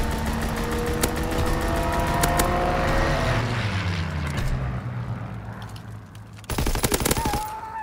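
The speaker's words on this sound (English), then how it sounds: "Strafing run inbound." Rapid aircraft strafing gunfire from a video game, loud bursts of machine-gun fire over a droning engine, fading briefly before another sharp burst near the end.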